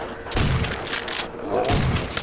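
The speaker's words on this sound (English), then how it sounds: "Shotgun. It's pretty punchy." Two punchy shotgun blasts in Call of Duty: World at War Nazi Zombies, spaced about a second and a half apart, heavy low thumps with bright cracks, set against a busy game backdrop.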